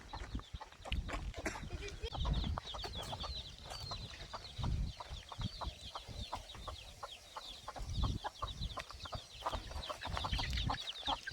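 Free-range village chickens cluck and peck nearby on a farm in a busy, continuous chatter of short calls and scratchy taps, with no voices.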